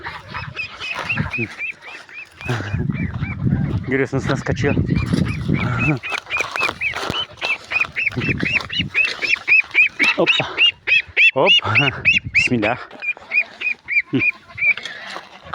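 Ducks or geese in a garden honk and quack repeatedly, close and loud, in dense overlapping calls throughout, while someone talks over them.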